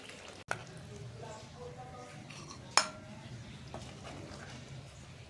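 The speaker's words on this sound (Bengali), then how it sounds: "আমি একটা প্লেটের মধ্যে তুলে নিচ্ছি" Chicken curry spooned from a pot onto a plate, two sharp metallic clinks of a ladle against cookware over soft scraping and wet squishing, fairly quiet and close.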